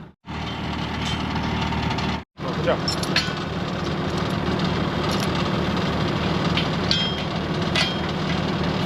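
A farm truck engine idles steadily and close by through the whole stretch, a low continuous rumble during strawberry row-cover work, with a brief cut near the start and people talking briefly over it.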